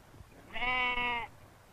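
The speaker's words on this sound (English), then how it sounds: "this land where no man goes makes a happy pasture for the bleating goats." A single drawn-out bleat from a wild goat grazing on Favignana island, a Mediterranean island once called Island of Goats, rising clearly out of quiet open-air background.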